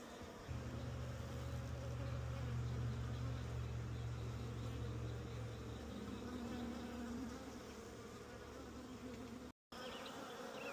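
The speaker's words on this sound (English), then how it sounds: "Do you see all these bees just dancing in front of my face here?" Honeybees buzz close around a beekeeper's bare face without a suit, a dense, steady drone that stays loud throughout and thins slightly near the end, with a brief dropout just before it finishes.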